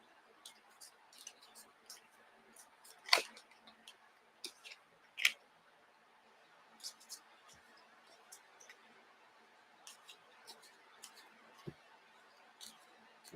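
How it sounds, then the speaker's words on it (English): Tarot cards being shuffled by hand, heard as faint, irregular papery ticks and flicks with a couple of sharper snaps, quiet and close with no talking. "Once again, I'm shuffling the cards,"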